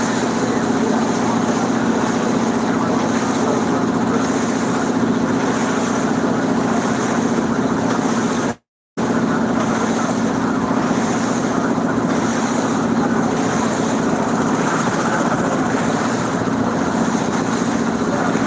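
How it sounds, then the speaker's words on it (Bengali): A motor boat runs steadily along a winding canal through choppy waves, its engine a loud, unbroken drone with water noise and a brief cut in the middle, no voices heard. "নৌকা চলতেছে আর পানি ঢেউ খেলতেছে"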